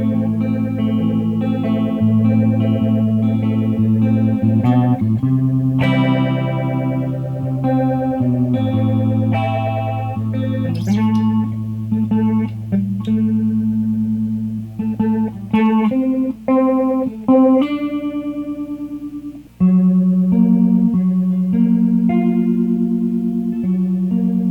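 An electric guitar runs through a Warm Audio Mutation Phasor II phaser pedal, playing sustained chords and melodic runs with a swirling, sweeping character, loud and steady throughout with no speech.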